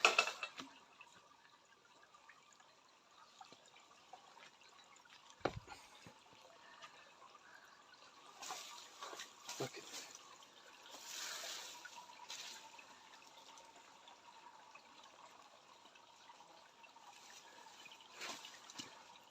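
A stream flows just below a hazelnut orchard, a faint, steady trickle of running water with a few louder splashes and gurgles in the distance, and no voices.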